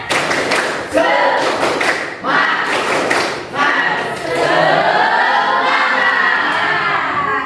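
A group of teachers in a training class clapping together in rhythmic bursts, with several loud thumping claps and crowd voices and shouts mixed in, close and fairly loud throughout.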